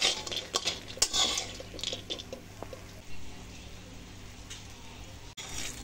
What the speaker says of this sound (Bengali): বড়িগুলোকে ভেজে নিচ্ছি।